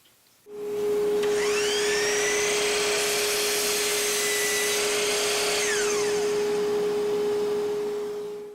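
A steady, loud dust collector roar in a woodshop, with a constant hum and shifting whine, running continuously for several seconds before starting to fade.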